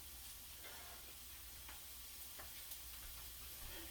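Frying vegetables for keto shrimp fried cauliflower rice, tossed in a pan with a wooden spatula: a soft, steady sizzle with a few light scraping clicks of the spatula against the pan.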